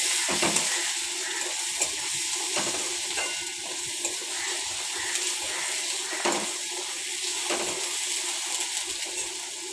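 Onions and tomatoes frying in a pan on a gas stove for a Bengali fish curry, a steady close sizzle with occasional stirring scrapes and clinks throughout.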